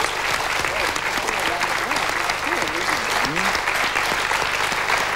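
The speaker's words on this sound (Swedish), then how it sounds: "Får en applåd till er." A studio audience applauds two guests at a 1994 Swedish television dinner-interview show with steady, dense clapping, while people talk and laugh over it.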